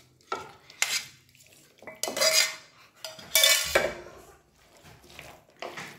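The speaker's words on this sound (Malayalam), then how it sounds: "ചിക്കനും കൂടി ചേർത്ത് നന്നായിട്ടൊന്ന് കുഴച്ച് യോജിപ്പിക്കുക" Chicken pieces being mixed with marinade in a bowl, several bursts of wet squelching and clattering of a spoon against the dish with quiet gaps between, no talk.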